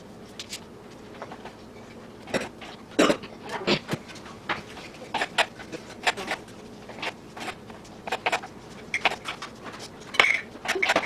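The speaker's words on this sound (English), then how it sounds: "So I'm just gonna shake them all to there and just dump them all in here" Raw shrimp are shaken and dumped into a bowl, making a run of sharp clinks and wet knocks against the dish that come in irregular bursts, close and fairly loud, with no voice.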